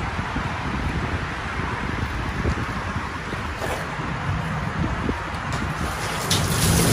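Water pours steadily into a dumpster outdoors, a continuous broad gushing wash with some wind noise, holding at an even level throughout.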